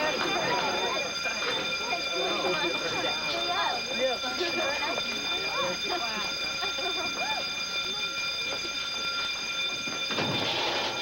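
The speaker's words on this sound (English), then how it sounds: "did you pull that fire alarm?" A fire alarm rings continuously and loudly while several people talk over it.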